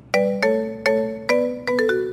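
A phone ringtone rings in a loud, close series of five chiming electronic tones in an uneven rhythm, each with a short ringing decay. No one speaks over it.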